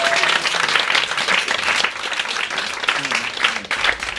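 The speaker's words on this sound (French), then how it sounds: "Un applaudissement, s'il vous plaît, regroupez-vous pour les applaudissements." An audience at a comedy talent show applauds, with dense clapping that swells and dips, mixed with some faint crowd noise and possible brief voices.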